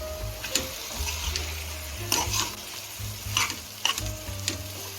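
Chicken 65, already fried, tossed and stirred through a hot tempering in a pan, with a steady close sizzle and repeated scraping strokes of a spoon against the pan.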